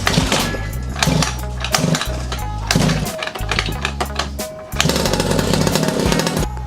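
Small pocket bike two-stroke engine with a new carburettor running just after starting, a loud, close, rattling buzz that revs unevenly and surges back up after a brief dip.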